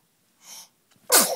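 A soft sharp intake of breath followed by a single loud, explosive sneeze close by.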